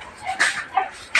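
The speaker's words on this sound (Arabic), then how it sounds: "كلنا شفنا الكلاب هايصه ازاي النهارده بسبب اللحمه دي" Several dogs yip and whimper excitedly over meat from a butcher, short high-pitched bursts scattered through the moment at moderate distance.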